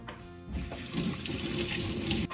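Green onions are rinsed under a steadily running kitchen tap, with water splashing into the sink for a couple of seconds after a brief pause at the start.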